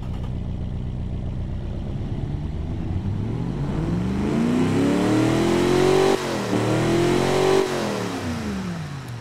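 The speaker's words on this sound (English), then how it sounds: "it pretty much sounds like your average 50s engine" A 1950s V8 car engine in a video game rumbles and revs, its pitch climbing and dipping twice as the throttle opens and eases, loud and close, with no speech.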